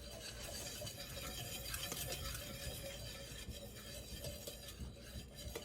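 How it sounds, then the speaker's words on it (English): A whisk stirs dry cake ingredients, flour and salt, in a bowl for a Christmas raspberry cake roll, giving a continuous close scraping and rustling with small clicks against the bowl and no talking. "Mix the dry ingredients together until combined."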